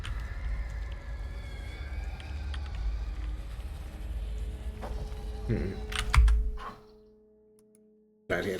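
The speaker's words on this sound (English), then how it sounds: "I know the typing is caught on the mic" Computer keyboard typing picked up on a gaming stream microphone, a steady stream of soft close clicks for several seconds, followed by a few louder knocks and then near silence.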